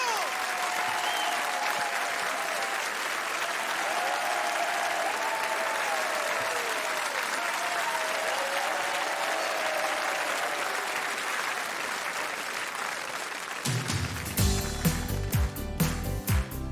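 A large concert audience in Lyon applauds loudly and continuously at a choir show, a dense wash of clapping that breaks near the end into sharper, more rhythmic claps.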